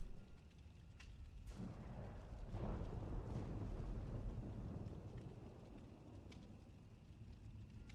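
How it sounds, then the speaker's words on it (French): A thunderstorm inside the Dead by Daylight video game: faint distant thunder rumbles and crackles over a soft wash of rain and wind, quiet throughout with no speech. "L'orage dans le jeu que j'entends."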